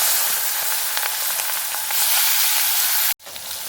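Pieces of fish frying in oil in a wok give off a loud, continuous sizzling hiss with faint spatters, broken by a brief drop to near silence before the sizzle resumes.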